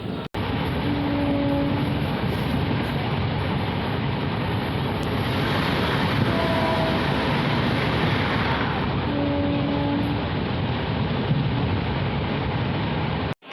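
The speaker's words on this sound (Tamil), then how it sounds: "ஆன் டைமில் தான் நெல்லை எக்ஸ்பிரஸ் நம்மளை சாத்தூரில் கொண்டு விட்டுருக்கு." Nellai Superfast Express train running on Indian rail, a loud continuous rumble and clatter of wheels and carriages heard from aboard, with brief tonal horn-like notes sounding a few times over the steady roar.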